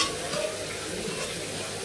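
Spice masala being sautéed in a pan for a cauliflower dish, a soft steady sizzle with faint stirring scrapes, fairly close and continuous, no talking.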